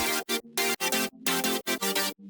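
Synth chords from a drum and bass track, played with no arpeggio on top: loud, full-bodied stabs in a choppy gated rhythm, about eight bursts separated by short silences, heard alone.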